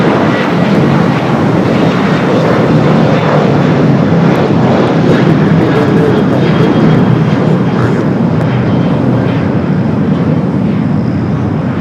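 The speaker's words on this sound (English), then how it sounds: "Daniel flying on the 737 with American heading to Vegas." An American Airlines Boeing 737 bound for Las Vegas roars steadily at Los Angeles airport, a loud, unbroken broadband jet rumble filling the whole stretch with some wind buffeting.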